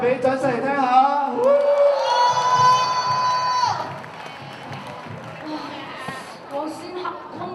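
A school singing contest final audience bursts into crowd noise with cheering and clapping, a long sustained high-pitched shout rising over the din before the excitement settles into a lower murmur of voices.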